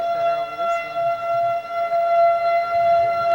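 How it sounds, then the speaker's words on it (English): Tornado civil defense sirens wail in a steady, loud sustained tone with layered pitches, continuous throughout and dominating the scene. "Well, our sirens work anyway."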